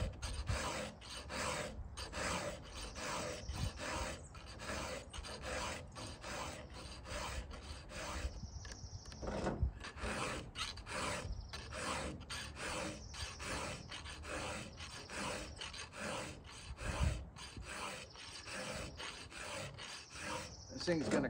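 A chainsaw chain is hand-sharpened with a file on a truck tailgate, giving steady rhythmic rasping strokes that repeat close and loud for the whole stretch, with no talk.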